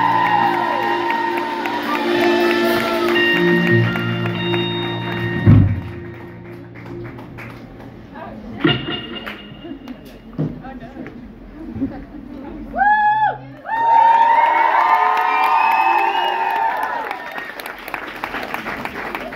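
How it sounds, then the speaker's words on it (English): Audience at a live acoustic music performance applauding and cheering loudly for several seconds, with whoops over the clapping; chatter and a strummed guitar come before it. "Everyone, round of applause for Meelu."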